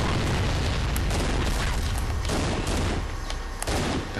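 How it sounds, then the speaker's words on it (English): Gunfire and explosions rage in Halo: Combat Evolved Anniversary, dense overlapping shots and booming blasts forming a loud, continuous battle wall with sharp cracks throughout. "It's all gunfire."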